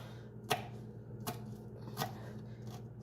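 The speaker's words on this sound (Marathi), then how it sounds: "मिरची पण बघा मी किती बारीक करते आहे" A kitchen knife strikes a cutting board three times at a slow, even pace while finely chopping green chilies for sabudana vada. The chops are close and moderately loud.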